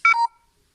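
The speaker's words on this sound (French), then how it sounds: "Excusez-nous pour le petit bruit. C'est rien, c'est mon téléphone qui n'a plus de batterie, il va s'éteindre." A mobile phone with a dying battery gives a short low-battery alert: a quick pair of close electronic beeps that run into one sustained tone lasting about a quarter second, then silence.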